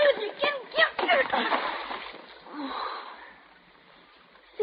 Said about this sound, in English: You dropped it in the water.